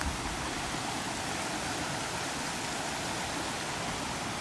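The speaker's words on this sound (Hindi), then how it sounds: "तो मुझे ऐसा लगता है कि मैं वाटरफॉल के पास पहुंच चुका हूं।" Bijakasha waterfall in Bastar pours in a constant, loud, broadband rush of falling water, steady and unbroken from start to finish with nothing else audible.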